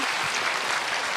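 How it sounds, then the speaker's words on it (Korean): An audience at a Buddhist monk's book concert claps in dense, steady applause that fills the whole short moment at full volume, with no voices over it. "박수 한번 보내주세요."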